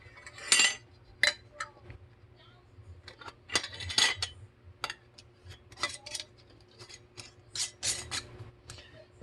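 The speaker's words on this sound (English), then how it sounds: "I'm just going to put our lids on." Metal lids clink and clatter onto glass jars of cold-packed bread and butter pickles, a run of sharp, close taps and scrapes spread irregularly through the stretch over a faint steady hum.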